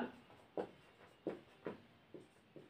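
Pen strokes on paper while working a class 10 maths problem about a right circular cylinder: faint, close scratchy marks in a loose rhythm of about six short strokes, alone in a quiet room.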